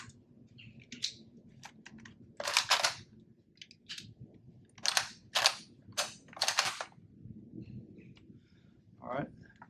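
A Tavor TS-12 shotgun fires one-handed in a series of sharp, loud shots, several close together with short pauses between, alongside a few quieter clicks and low speech in the background.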